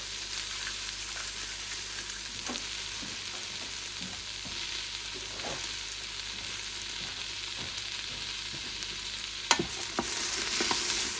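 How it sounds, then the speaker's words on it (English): Chopped onion sautés in an Instant Pot, a steady close sizzle and crackle of frying with occasional faint stirring clicks, no talk. "Waiting on the onion just to saute a little bit more"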